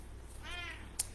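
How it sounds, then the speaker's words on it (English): Pet cat Ginger gives a single soft meow in a quiet indoor room, close but faint, followed by a brief sharp click. "Meow."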